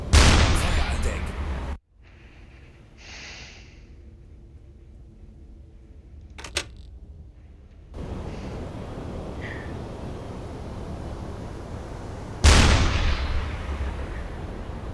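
A submarine's deck gun in the U-Boat video game fires a heavy booming shot near the start, then goes quiet under faint ambience, with a second loud blast and rumbling echo near the end and a voice speaking briefly in between.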